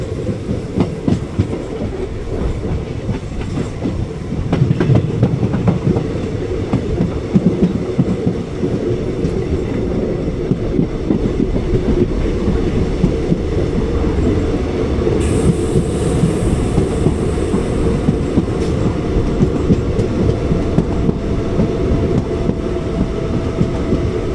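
Summer Special Express 06061 from Ernakulam Junction to Velankanni, heard from on board while running on the rails: a loud, continuous rumble with steady clickety-clack of the wheels and a brief high hiss partway through.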